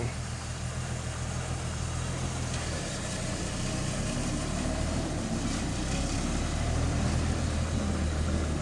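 A Jeep engine runs steadily while packing dirt for a pad, a continuous loud low rumble with constant roar and no voices.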